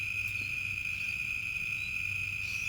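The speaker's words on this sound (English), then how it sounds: "I do apologize if the crickets are a bit of a distraction" Crickets chirp at night in a steady, continuous high trill alongside a low background hum, with no talking.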